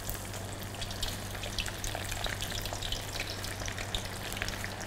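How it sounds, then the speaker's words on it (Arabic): Raw cauliflower pieces frying in hot corn oil, producing a steady, fairly soft bubbling sizzle with crackling pops throughout and no voices. "حسقط قطع الأرنبيط في الزيت."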